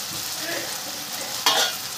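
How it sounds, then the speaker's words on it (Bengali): Masala and a small tomato sautéing in a pan make a continuous soft sizzle as they are stirred, with one sharper scrape partway through, and no talking over it. "এবার মশলাটাকে আমি এবার ভালো করে একটু কষিয়ে নেব"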